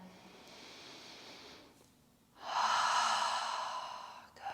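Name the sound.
deep breathing during yoga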